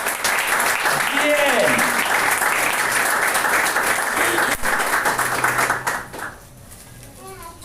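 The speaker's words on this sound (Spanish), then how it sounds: "¿Cuántos le pueden dar un fuerte aplauso al Señor?" A church congregation breaks into loud, sustained applause that fills the room, with voices and a speaker heard over it before the clapping fades out near the end.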